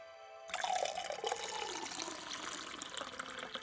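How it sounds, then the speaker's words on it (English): Water pours into a container after a silent start, a bright, close splashing stream that begins abruptly and runs steadily, its tone shifting as the vessel fills, with no talking. "Water fill ASMR."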